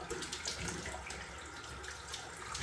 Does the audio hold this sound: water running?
yes